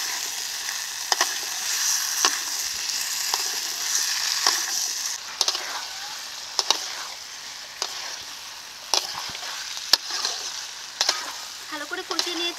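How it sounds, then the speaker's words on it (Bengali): Chicken with green jackfruit and potato being sautéed in spices, a steady close sizzle with repeated sharp scrapes and knocks of a spatula stirring the pan, no voices. "এখন মশলার সঙ্গে মাংস ও এঁচোড় আলুটাকে ভালো করে কষিয়ে নেব।"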